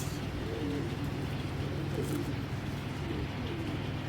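Racing pigeon cooing softly, a few low repeated coos close by over a steady background hum.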